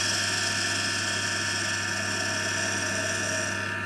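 A parting tool cuts into a turning wooden chisel handle on a wood lathe, producing a steady, close, whirring mechanical drone with a constant hum beneath it.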